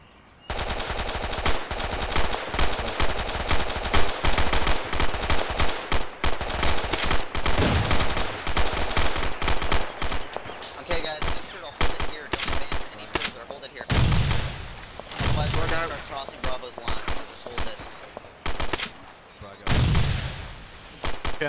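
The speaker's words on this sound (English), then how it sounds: "Incoming fire" Sustained automatic gunfire and scattered single shots in the military video game Arma 2, loud dense bursts continuing throughout with a few heavier booming impacts.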